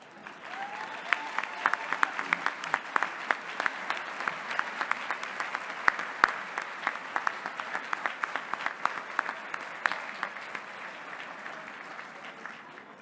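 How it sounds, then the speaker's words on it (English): An audience at an awards luncheon for park districts gives a sustained round of applause, dense clapping steady throughout and easing slightly at the end, no speech over it. "And now we will give them a round of applause."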